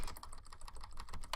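Computer keyboard keys typed in a quick, steady run of soft clicks, close and alone with no talking, ending in one slightly sharper keystroke.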